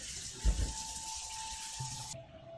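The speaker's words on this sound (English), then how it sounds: "Rinse it in cold water." Water runs from a tap in a steady hiss with a faint ringing tone, a brief splashing burst near the start, then the flow quiets and settles.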